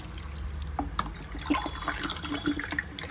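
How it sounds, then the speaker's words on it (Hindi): Water poured from a small glass into a cooking pot while making mutton yakhni pulao, giving a busy splashing trickle with scattered drips and clinks, close and fairly quiet. "ये अभी मैं 1 गिलास पानी डाली हूँ"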